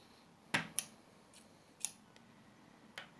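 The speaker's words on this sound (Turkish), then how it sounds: "Şunu şöyle kestim ve şimdi şu ortasını keseceğim" Scissors cutting fabric to make a no-sew mask produce a handful of sharp, separate snips at irregular intervals, close but quiet, with no voices.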